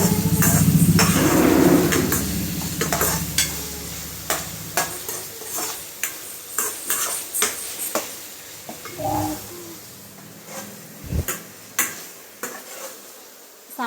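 Mutton is sautéed in a pan, starting with a strong sizzle, then a long run of rhythmic spoon scrapes and taps against the metal, close and clear, with a quieter sizzle underneath.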